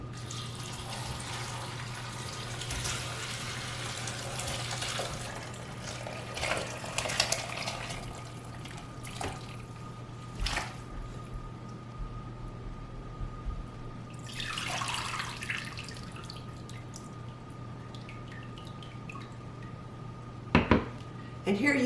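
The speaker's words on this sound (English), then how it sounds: "I'm going to use this colander to just kind of pour the bone broth into this bowl" Chicken bone broth pours through a colander into a bowl, a running liquid splash with metallic clinks and a few louder knocks over a steady background hum.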